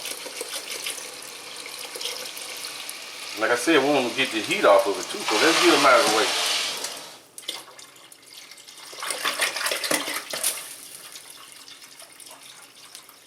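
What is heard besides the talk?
tap running cold water for turkey brine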